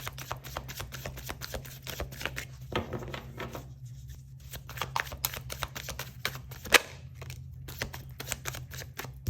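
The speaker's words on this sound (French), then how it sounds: "Je voudrais juste avoir le temps de les brasser un peu." Tarot cards being shuffled by hand, a steady run of quick papery riffles and flicks, close and fairly quiet over a low steady hum, with no talking.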